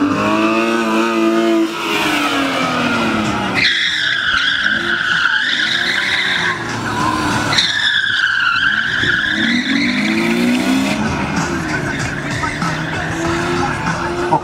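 A BMW 3 Series race car fitted with a safety roll cage, skidding through a speed maneuvering course in Mogilev, with loud close squealing tires and a revving engine rising and falling through repeated slides.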